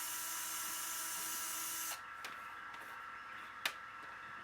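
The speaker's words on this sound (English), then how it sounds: "I start with the small 2 mil drill bit" A small 2 mm drill bit bores into a plastic Xbox controller shell with a thin, high whine for about two seconds, then stops, leaving a few light clicks and one sharp tap.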